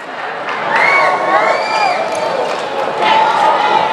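Arena crowd at a Hawaii men's volleyball match against UCSB cheers and whoops loudly after a point, a dense sustained roar with shrill yells rising through it.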